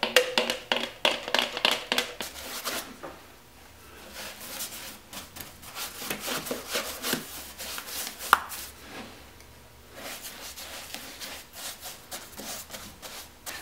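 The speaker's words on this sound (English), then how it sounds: "I'm using the brush and a lot of material to fill all these voids in the end grain of the plywood" A brush loaded with paint scrubs and dabs into the rough end grain of plywood for a snowboard box, a close, soft rhythmic rubbing and scratching that comes in bursts with brief pauses.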